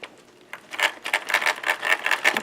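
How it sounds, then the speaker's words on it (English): A toy vehicle's small electric motor, with a suspected blown transmission, whirs in quick repeated revving bursts, close and fairly loud, with no talking. "You can hear the motor spinning right now."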